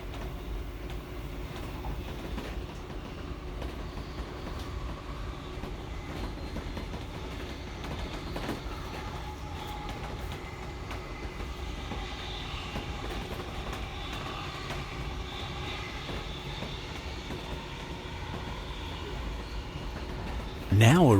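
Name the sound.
passenger train running on rails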